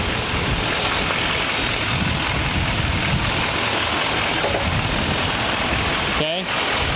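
A 2021 Duramax Silverado 2500 diesel pickup with a newly installed driveshaft drives along, its engine drone and road rumble steady and loud throughout, with a short mechanical clunk near the end.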